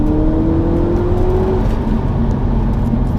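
A supercharged 600 hp Audi RS4 B7 accelerates hard, heard from inside the cabin as a loud, rising engine drone with supercharger whine climbing in pitch before a shift and pulling on.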